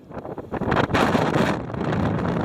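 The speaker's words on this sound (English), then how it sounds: "See the wind blowing past." Strong wind blows across the exposed hilltop of Mam Tor at a bivvy camp, a loud, continuous roaring buffet hitting the microphone with rising and falling gusts.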